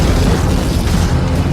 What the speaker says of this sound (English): powerful explosion of sand and water.